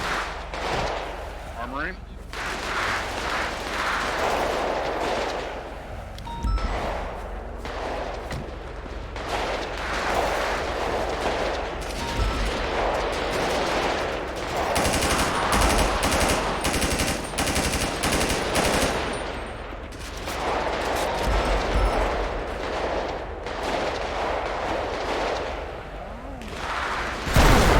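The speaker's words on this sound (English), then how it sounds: "Shots fired, shots fired, shots fired." Gunfire during a police raid, caught on a bodycam as dense bursts of automatic shots and loud cracks that go on almost nonstop for nearly half a minute, with shouting voices in the middle of it.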